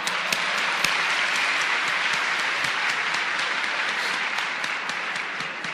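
Sustained applause from a large theater audience at a live lecture-performance in a concert hall, dense steady clapping filling the room at full strength with no voices on top.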